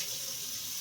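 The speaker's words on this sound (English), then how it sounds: "Rinse my lids. Really clean." Water runs steadily from a kitchen tap as canning jar lids are rinsed under it, a constant close hiss of flowing water with no talking.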